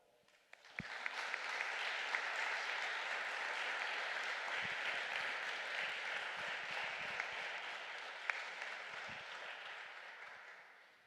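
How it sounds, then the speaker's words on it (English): Sustained audience applause at a commemorative public talk on the Genoa G8 2001 protests, a dense, steady wash of clapping from a crowd that swells quickly and carries on for about ten seconds. "let's make an applause"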